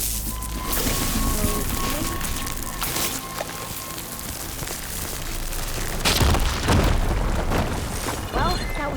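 Fire gleam explosion in Horizon Forbidden West, a heavy booming blast with crackling debris and rumbling noise that swells midway and stays loud, game ambience underneath.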